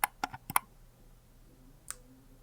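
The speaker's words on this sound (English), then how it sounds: "that is the sound the right bumper makes when you click on it." A Steam controller's right bumper being clicked, giving a few sharp, close plastic clicks in quick succession near the start and one more isolated click shortly after, alone in a quiet room.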